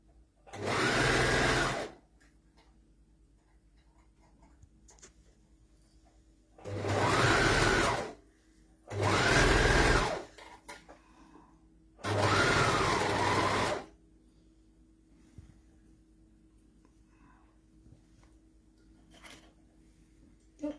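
A sewing machine stitches a dress in four separate loud, steady bursts of a second or two each, with quiet pauses between them and faint room noise.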